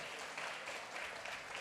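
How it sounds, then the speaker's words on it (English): Crowd applause from an event audience, a steady dense wash of many hands clapping at moderate distance, fairly quiet and continuous throughout with no voices standing out. "Everybody give yourselves a round of applause for being epic in our memory"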